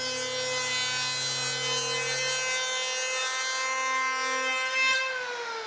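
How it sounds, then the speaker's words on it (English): An electric planer shaves a surfboard's stringer at 45 degrees, a loud, close, steady high-pitched whine with a rasping edge that holds for several seconds, then dips in pitch and stops near the end. "45-degree planer. Do not force it. Take it easy. Let the planer do the job."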